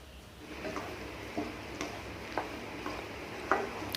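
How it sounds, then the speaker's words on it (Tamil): A spoon scrapes and knocks in a pan as cooked pasta is mixed into a creamy white sauce over a low flame, giving sparse irregular clicks over a soft steady hiss. "சேர்த்து நம்ம ஸ்லோ ஃப்ளேமில் வச்சு நல்லா மிக்ஸ் பண்ணி விட்டுக்கலாங்க."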